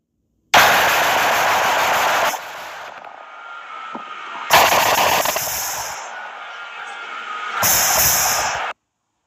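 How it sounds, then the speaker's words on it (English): Loud bursts of semi-automatic gunfire, three dense volleys of rapid shots with echoing gaps between them, no talking. "Now, that is the sound of semi-automatic gunfire"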